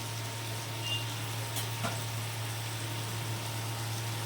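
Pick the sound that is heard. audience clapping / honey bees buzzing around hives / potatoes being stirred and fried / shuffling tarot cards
potatoes being stirred and fried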